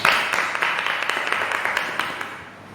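Church congregation applauding together, a steady wash of clapping that slowly fades over a few seconds.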